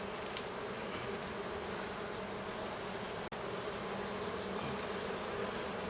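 Honey bees drone in a dense, continuous buzz around an open hive during a swarm-prevention split. The hum is close and even throughout, with one sharp click partway through and no talk.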